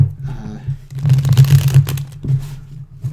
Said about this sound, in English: let me go ahead and shuffle these up